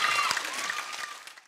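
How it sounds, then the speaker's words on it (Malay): Applause from a studio audience on a Malaysian singing competition, a dense wash of clapping with a tone ringing through it at first, then fading out over about a second and a half. "Beri tepuk tangan sekali lagi."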